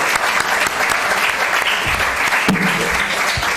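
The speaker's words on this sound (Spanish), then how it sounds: "Vas a aplaudirle también, ¿no?" An audience at a conference on the situation of older people applauds, a loud continuous wash of clapping from many hands with a faint voice briefly underneath.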